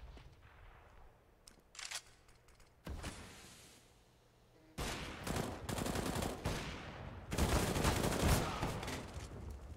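Bursts of rifle and automatic gunfire from a Counter-Strike match on the Mirage map, including heavy AWP sniper shots, loud and close with several dense volleys and brief quieter gaps between them.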